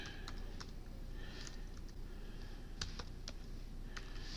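Typing on a computer keyboard to enter a search, with irregular light key clicks and taps coming in small bursts, close and quiet, without any talking.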